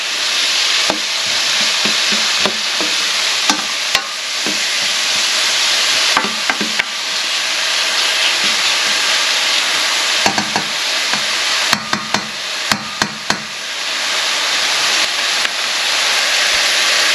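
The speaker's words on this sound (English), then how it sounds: "So we're just going to keep cooking this onion" Onions frying in a pan give a loud, continuous close sizzle, punctuated by irregular clicks and scrapes of a utensil stirring them, with no talk.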